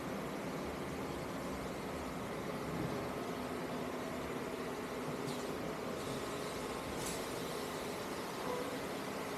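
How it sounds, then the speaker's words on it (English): Packaging machinery fills 4-liter bottles of GL5 gear oil in a grease factory, a steady broadband mechanical whir running loud and unbroken throughout, with a couple of brief high hissy bursts near the end. "This is an advanced packaging equipment with very high precision."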